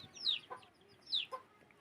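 Farm chickens being fed, two short bursts of clucking calls with softer scratchy sounds between, near and fairly clear in a quiet rural setting.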